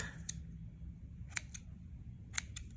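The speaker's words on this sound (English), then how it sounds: "Snip that off." Scissors snip through pom-pom yarn in a few quick, crisp cuts, close and fairly quiet over a soft background hum, with no speech.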